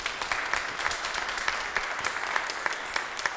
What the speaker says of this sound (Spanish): Lo despedimos con un fuerte aplauso bien merecido.